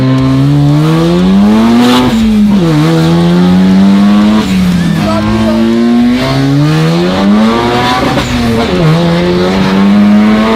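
A Mazda RX-7 rotary engine revving hard while driving, loud and close, its pitch sweeping up and down through gear changes with a continuous buzzing drone.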